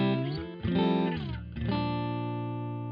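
An electric guitar played softly through Logic Pro's Brawny Combo Crunch amp simulation rings out in sustained, mostly clean chords with a slight edge, a couple of strummed changes decaying smoothly, close and alone.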